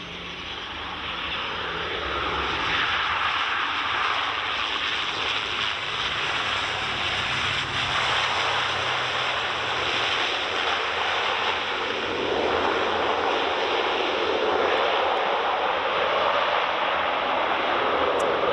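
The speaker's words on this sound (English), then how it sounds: "An ATR coming in on final now." An Aer Lingus Regional ATR turboprop airliner landing on runway 24 at Edinburgh Airport in the evening, heard as a loud, steady engine roar that swells slightly and holds throughout, with no talking.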